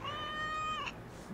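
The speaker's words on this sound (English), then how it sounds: "Hey, look, a kitty cat." A cat in Assassin's Creed Valhalla gives one clear, drawn-out meow, close and fairly loud, over a faint low game background.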